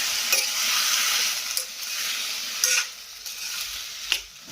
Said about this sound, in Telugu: ఇప్పుడు ఈ టమాటా ముక్కలు అయితే బాగా మగ్గేంత వరకు మగ్గించుకోవాలి.